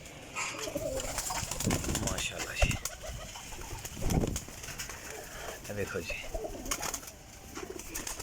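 Teddy golden flying pigeons crowded in a loft coo steadily under a voice, with occasional rustling and flutters close by.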